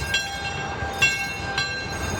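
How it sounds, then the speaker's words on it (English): An amusement park ride train at Cedar Point rolls in nearby with a steady mechanical rumble, punctuated by a few short bright whistle-like squeals of the wheels or horn. "Here comes the train."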